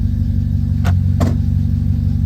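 A Honda Civic with a manual clutch idles with a steady, loud, low engine drone, broken by two brief sharp clicks close together.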